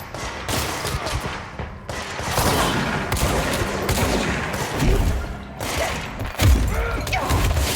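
Continuous heavy gunfire from a firefight in the video game Control, with dense overlapping shots, thumps and impacts, loud and close, while a player talks occasionally over the shooting.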